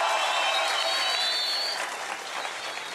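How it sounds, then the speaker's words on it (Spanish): A concert crowd applauds the drummer after he is introduced, a loud, dense wash of clapping with a tonal ringing from the stage through the first half, then fading slightly as the clapping thins. "Un aplauso para Cristian."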